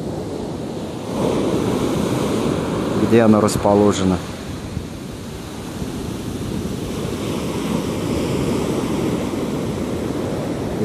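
Sea waves wash steadily as broad, continuous surf throughout, with a brief burst of speech near the start over the water noise.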